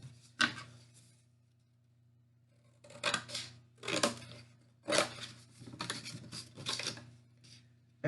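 Scissors snip through a notepad in several bursts, a single cut first and then a run of crisp closely spaced clipping sounds, near and alone, with quiet pauses between.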